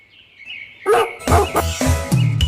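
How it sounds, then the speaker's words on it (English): A dog barks several times at close range in a quick, uneven series of yips, with a short whimper at the start. "D for dog."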